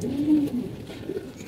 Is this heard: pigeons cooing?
yes